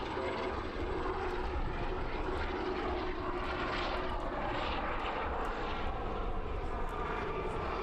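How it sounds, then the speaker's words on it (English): Propeller-driven reconnaissance and utility aircraft, once used as an advanced trainer, passing at an air display festival with a continuous engine drone and broad rushing noise, faint at a distance. "as well as being a good reconnaissance and utility aircraft, of course, it was the advanced trainer for many air forces as well"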